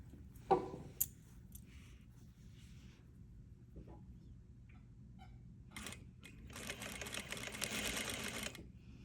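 A sewing machine stitches a top collar in short, quiet bursts, with small clicks and a pause near the start before a longer, steadier run of stitching builds toward the end.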